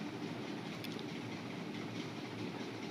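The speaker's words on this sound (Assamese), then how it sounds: "খন্তেক পিছতে নিউ দিল্লী ৰাজধানী স্পেচিয়েল ট্ৰেইনখন গুৱাহাটীৰ যাত্ৰাৰ বাবে উপস্থিত হ'বহি।" The New Delhi Rajdhani special train rolls through NJP station with a steady, faint rumble and soft clickety-clack of wheels, heard from a distance with no voices.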